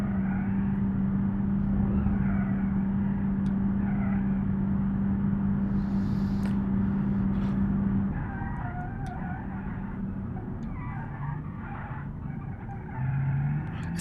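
Car engine from BeamNG.drive, a base-model Lexus or Jeep Grand Cherokee on the Nürburgring, drones steadily with a constant low hum, easing off partway through as the tone shifts and rises again near the end.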